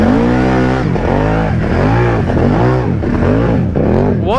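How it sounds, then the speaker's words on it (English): A four-wheeler ATV digging in a deep mud hole, its engine revving hard and loud in rising and falling surges, close and continuous throughout. "What a beast of a four-wheeler."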